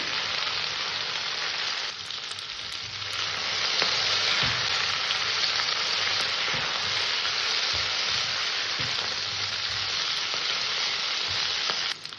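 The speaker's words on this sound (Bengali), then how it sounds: "ভেজে নেব মাঝে মাঝে একটু নাড়াচাড়া দিয়ে দিতে হবে" Flat beans (sim) fry in a pan with a steady, close hiss of oil that holds throughout, broken now and then by light scraping as they are stirred.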